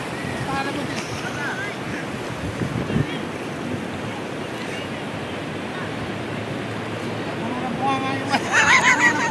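Wind buffets the microphone over the steady roar of ocean waves, with faint voices in the background.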